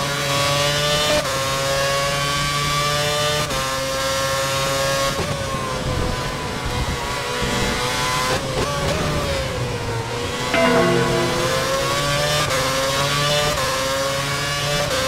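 Formula One cars race in a video game at Budapest, loud high-pitched engines screaming continuously with rising and falling revs as gears shift, several cars close together with no talk.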